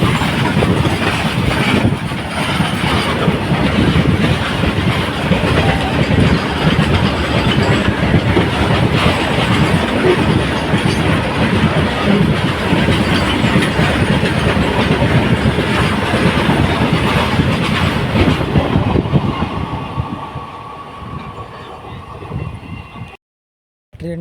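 A long passenger train of around sixty coaches rolls past close by, a loud continuous rumble with rhythmic clickety-clack of wheels on rail joints, fading toward the end as the last coaches clear.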